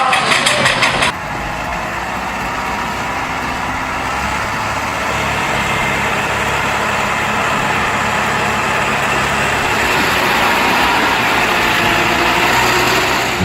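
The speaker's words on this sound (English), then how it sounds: "the field at Welland roared with steam as two workhorses from the past locked horns" Steam traction engines, a McLaren double crank compound and a tandem engine, work hard at a rally field in a loud, continuous mechanical rumble that follows a brief opening burst.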